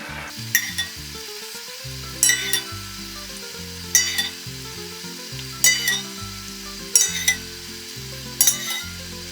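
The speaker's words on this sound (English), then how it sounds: "So I'm just going to ladle the stock into the pan." Saffron-infused preheated stock is ladled into a sizzling paella pan, the hot pan hissing loudly with each pour, about five distinct splashing bursts every couple of seconds over a steady frying sizzle, close up with no talk.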